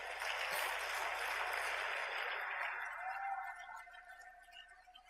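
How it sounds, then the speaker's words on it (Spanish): A church congregation at a midweek service claps in a broad, steady round of applause that holds for a few seconds, then tapers off into scattered fading claps. "Dele un fuerte aplauso a Jesucristo."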